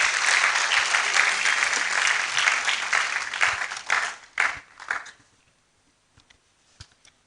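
Loud applause from a crowd for about four seconds, thinning into a few scattered claps before fading to near silence.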